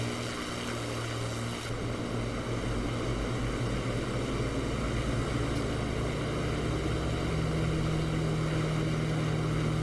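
Propeller drone of a de Havilland Mosquito bomber's engines in the DCS flight simulator, a steady loud continuous roar with a low tonal hum that shifts slightly after a brief change near the start, no talking.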